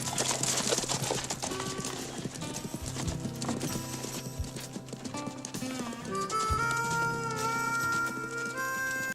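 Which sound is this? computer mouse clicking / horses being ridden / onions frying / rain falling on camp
horses being ridden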